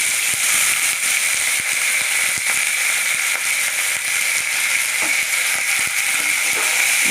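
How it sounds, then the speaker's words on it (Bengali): Chillies and curry leaves fry in a pan with a loud, constant, close sizzle, and faint crackles and pops are scattered through it. "লঙ্কাটা একটু ভাজা করে নিলাম একটু একটু ভেজে নিলাম যেটা কারি পাতাগুলো সব দিয়ে দিলাম"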